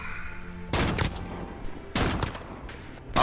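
Two bursts of rapid automatic gunfire from Call of Duty Modern Warfare, loud and close, separated by about a second of quieter game ambience with no talk.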